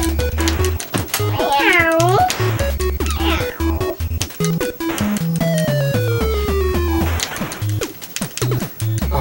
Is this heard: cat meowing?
yes